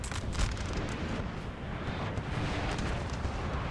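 Artillery fire booms through a Napoleonic battle video game at the Battle of Auerstedt, a dense continuous rumble of overlapping blasts and distant explosions with no clear gaps, no voices.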